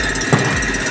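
A fishing boat's engine runs in reverse, giving a steady, loud mechanical rumble with a brief surge partway through and no talking.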